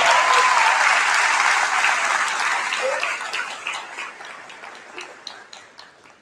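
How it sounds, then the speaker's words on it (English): Applause from a crowd at a commencement ceremony, loud dense clapping at the start that gradually thins into scattered, individual claps as it dies down. "Please give a great round of applause"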